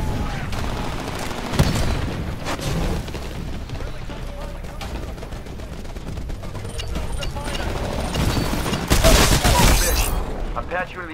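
Rapid gunfire bursts and booms in the video game Titanfall, dense and continuous with louder volleys near the start and toward the end, under a voice talking over the action.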